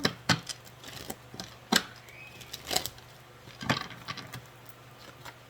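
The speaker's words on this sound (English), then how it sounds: "Last shuffle." Tarot cards shuffled by hand in a few sharp, papery riffles and flicks, spaced about a second apart, close and fairly quiet against a faint steady hum.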